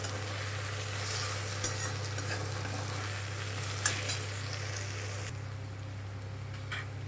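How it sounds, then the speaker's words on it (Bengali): Spice masala frying and being stirred in a pan, a steady close sizzle with occasional scraping stir strokes, fairly quiet and continuous with no talking. "এবার মশলাটাকে একটু ভালোভাবে কষে নেব"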